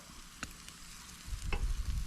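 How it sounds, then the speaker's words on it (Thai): Chicken grilling over an open fire at a rural rice-field homestay, a soft crackling sizzle with a couple of sharp pops, growing louder and denser toward the end. "ย่างไก่ครับผม"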